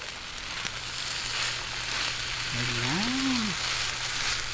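Onions sizzle in a pan for chicken sisig, a steady loud hiss throughout, while a voice briefly speaks partway through.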